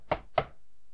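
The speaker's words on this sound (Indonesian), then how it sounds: "Terdengar ketukan pintu berulang-ulang." Two firm knocks on a wooden door, close and distinct, about a quarter second apart, followed by quiet.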